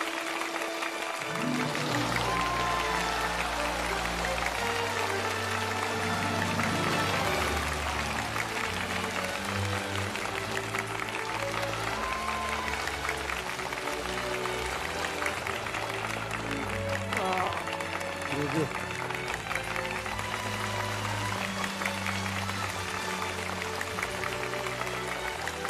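Studio audience applauding the winners of a Chinese crosstalk (xiangsheng) comedy competition final, a sustained wash of clapping running throughout under steady music, loud and dense.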